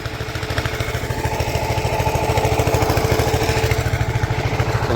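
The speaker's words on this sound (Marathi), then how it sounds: "एक ट्रॅक्टर पुढे गेला तिकडं" A tractor engine runs steadily in a rural Maharashtra farm setting, a close, loud rhythmic diesel chugging that holds throughout and swells slightly as it passes.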